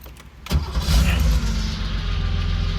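A car engine cranks over and catches at about half a second, then settles into a steady, loud idle close by with no talking.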